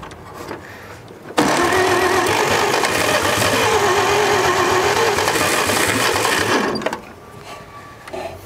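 An abandoned 1946 International truck with a long-idle, stuck engine cranks over loudly for about five seconds, a steady churning whir of the starter that ends abruptly, with quieter handling noises before and after.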